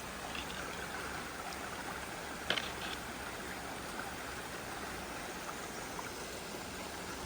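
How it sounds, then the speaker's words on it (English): Surface water runoff trickles into the Ammonoosuc River near a landfill site, a faint, steady gurgling flow with an occasional small tap or click. "there's the runoff, surface water runoff into the Ammonoosuc River"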